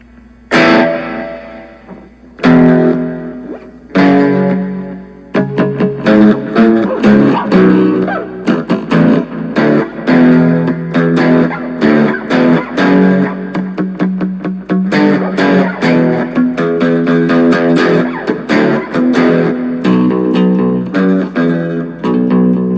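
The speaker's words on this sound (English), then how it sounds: "next is reverb and delay" A guitar through a Boss Katana Mini X amp, set with reverb and delay, plays a few separate chords and then a steady run of notes whose echoes and wash blur together, loud and close.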